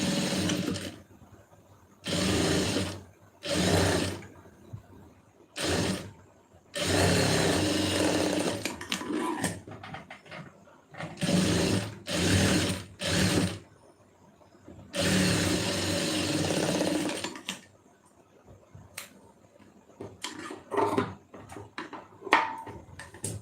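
A sewing machine stitches folded 2.5-inch lining cloth in repeated bursts of a few seconds each, with quiet pauses between runs and faint handling noises near the end.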